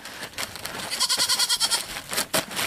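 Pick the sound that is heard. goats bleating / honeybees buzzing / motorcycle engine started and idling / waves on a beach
goats bleating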